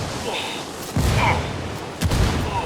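Grenade blasts in the Ghost Recon Wildlands shooter, two heavy booming bursts about a second apart, loud and close, amid gunfire and in-game voices.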